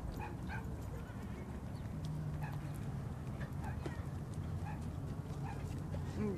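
Dogs at a dog park, with several short barks and yelps scattered across the scene at a moderate distance over a constant outdoor background and people talking.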